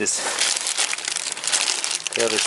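A plastic bag crinkles loudly and continuously as a fuel filter hose is pushed inside during power steering hose work on a Toyota Corolla, close crackling with a voice briefly talking near the end.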